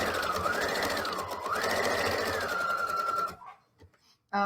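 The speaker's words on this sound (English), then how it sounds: "I'm going to put my machine on fast because it is kind of boring to just watch somebody sew." A sewing machine runs at fast speed, a loud, close, steady whirring hum with a rising and falling pitch for about three seconds, then stops, followed by a few brief mechanical knocks.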